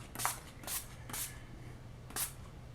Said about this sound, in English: I'm going to take the Urban Decay De-Slick Makeup Setting Spray and Oil Control.